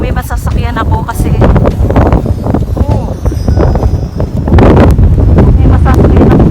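Strong wind rushing through a snowstorm in Amsterdam, a loud steady roar with gusts under a voice that talks throughout.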